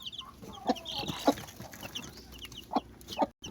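A mother hen clucks near newly hatched chicks in a series of short, close clucks spaced irregularly, with faint high chick peeps in the background.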